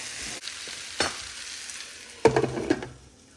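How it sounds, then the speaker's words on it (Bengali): Vegetables seasoned with turmeric, chili, coriander powder and salt being stirred in a pan: a soft background sizzle, a few scraping strokes early on, then a louder cluster of clattering stirs near the end. "তো এখন আমি নেড়ে চেড়ে ঢেকে দিব"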